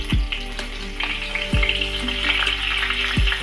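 Pieces of food, likely for a brinjal dish, sizzle steadily in hot cooking oil, a continuous close crackle with faint stirring clinks.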